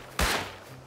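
A single loud, close gunshot in the video game Rust, a sharp crack that decays quickly into a brief tail.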